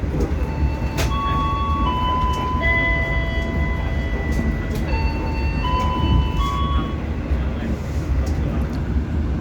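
The Argo Bromo Anggrek train rolling into Surabaya station and coming to a halt, a steady rumbling interior hum under a series of high electronic chime tones and faint background voices.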